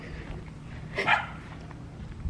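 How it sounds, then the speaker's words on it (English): A dog gives a single short, faint yip or bark indoors against a quiet background. "What are you barking in there?"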